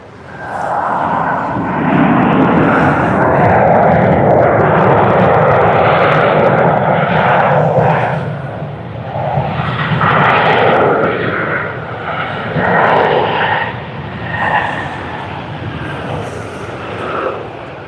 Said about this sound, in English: And this is Virgin Australia that has just come in from Brisbane.